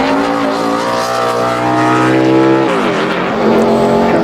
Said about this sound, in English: Joe Nemechek in this 87 car, past winner from here at Loudon